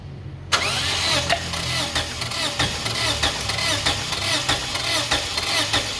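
A Toyota Fortuner starter cranks the engine during a cylinder compression test, a loud, close, steady rhythmic churning that begins abruptly and runs on with even pulses and no talk over it.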